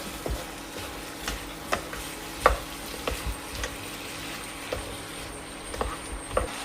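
Yogurt being stirred into chicken for malai chicken in a pan over medium flame, with scattered scraping clicks of a spoon against the pan over a soft steady sizzle, close and fairly quiet, no voices.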